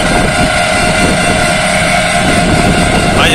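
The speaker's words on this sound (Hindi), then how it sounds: "इतना तो T stroke four stroke engine आवाज़ नहीं करते जितना अपनी ईवी आवाज़ कर रही है" Loud, continuous whirring drone of an electric vehicle while riding, steady and close with a strong high whine throughout, no voices.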